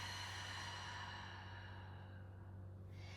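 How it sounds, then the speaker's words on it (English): A deep, steady exhale of breath during a Pilates-style core exercise, audible over a constant low hum and fading toward the end. "And a deep exhale breath to pull in."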